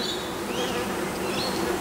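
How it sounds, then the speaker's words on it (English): Honey bees in a crowded hive hum in a dense, continuous buzz, loud and close, with faint higher chirps flickering above the drone. "look how many bees there are"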